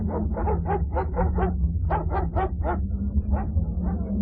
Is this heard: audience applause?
no